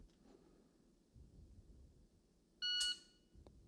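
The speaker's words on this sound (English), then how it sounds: "I'm going to wait for the beep" A single short electronic shot-timer beep during at-home dry-fire pistol practice rings out clearly against a quiet background, preceded and followed by faint low rumbling.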